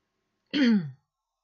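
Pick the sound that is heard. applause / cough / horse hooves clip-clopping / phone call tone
cough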